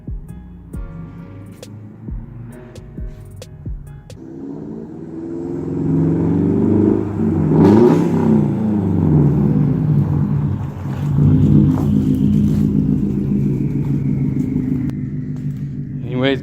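A car pulls up outside a home garage, its engine rumbling and rising as it arrives, audible in the background over nearby workshop noise while someone removes a differential bushing.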